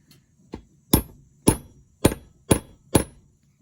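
Hammer tapping a Welsh plug into a chainsaw carburetor during assembly: six sharp metallic taps, one light and five harder, spaced about half a second apart, close and clear.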